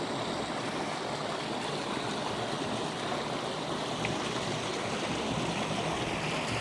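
Creek water rushes steadily through a culvert, making a loud, unbroken roar of flowing water that holds level throughout.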